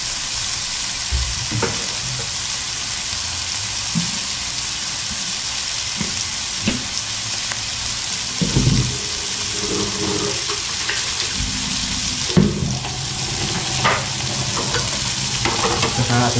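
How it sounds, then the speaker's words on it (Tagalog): Vegetables fry in a pan with pepper added, a steady broadband sizzle running throughout while a utensil stirs and scrapes in uneven clatters and knocks, with no talking. "Saka atin siya haluin mga kautol."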